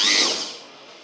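A small handheld rotary polishing and sanding machine, bought for smoothing damaged chrome, spins briefly and loudly with a bright whirring whine that fades over about a second, heard alone without talk.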